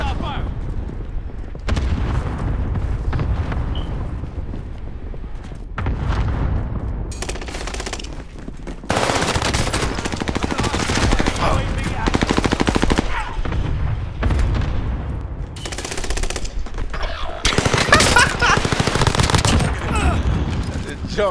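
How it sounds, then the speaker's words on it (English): Sustained hostile gunfire in a warfare shooter game, dense machine-gun bursts and booming impacts rattling loudly and near for long stretches, with brief lulls and a voice talking over the combat. "Hostile fire."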